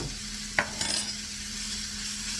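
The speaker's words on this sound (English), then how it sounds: "Stir it around." Spoon stirring flour into chicken scarpariello in a hot pan, with a steady sizzle of frying throughout and one sharp scrape of the utensil against the pan early on.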